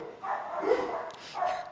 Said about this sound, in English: I love when we don't put the dogs away during a podcast.